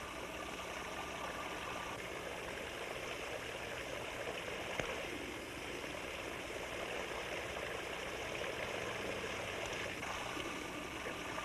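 Continuous dense patter of falling water drops in a Kelvin water drop electrostatic setup, a steady even hiss like a stream with no pauses.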